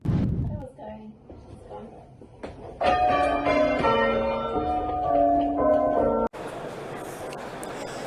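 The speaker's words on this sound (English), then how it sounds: "bells ring out" A voice speaks briefly, then church bells ring out in a bright, layered peal of overlapping tones before cutting off to a different background noise.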